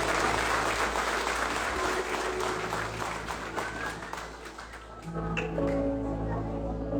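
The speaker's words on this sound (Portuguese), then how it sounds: "Aplauda Jesus por essa palavra novamente." A church congregation at a Pentecostal campaign service applauds steadily, a dense wash of clapping that fades slightly around the middle and then gives way to sustained organ or keyboard tones with voices underneath.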